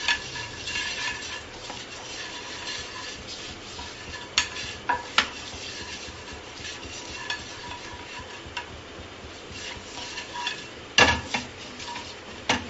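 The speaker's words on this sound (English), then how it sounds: "Just give it a nice stir." Spices such as turmeric, coriander, cumin and chili powder being stirred into a yoghurt-based dish in a pan over a medium-low flame: steady scraping and clinking of a utensil against metal, with a few sharper knocks, close and fairly quiet.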